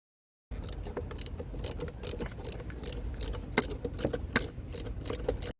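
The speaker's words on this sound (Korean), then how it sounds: "스로틀 바디 옆에 있는 에어호스 밑부분에 클램프도 풀어줍니다." A screwdriver loosens an air hose clamp beside the throttle body of a Kia K5, giving quiet close metallic clicks and light rattling taps in an irregular rhythm.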